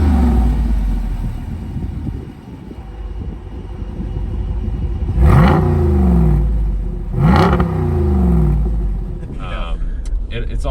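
A Jeep Wrangler Rubicon 392's stock V8 exhaust idles with a deep rumble, then revs sharply twice a couple of seconds apart, each blip roaring up and falling back, close by.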